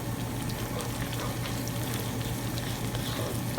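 Sauce with tomato sauce, salt and green chili powder frying and being stirred in a pan for Hyderabadi chicken 65, a dense, even, rushing sizzle with a low hum, steady and close throughout.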